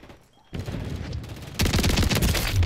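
A shotgun fires in Call of Duty: Modern Warfare, with dense, loud booming blasts crowding together into a sustained barrage of in-game gunfire that intensifies partway through.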